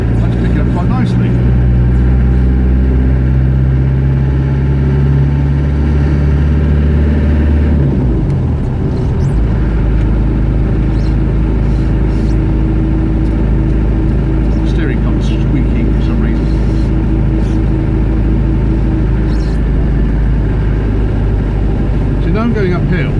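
A cold 1990 two-door Range Rover with a 200 TDI diesel engine cruises in fourth gear at about 1500 rpm, giving a steady low drone from start to finish with a brief shift in tone partway through.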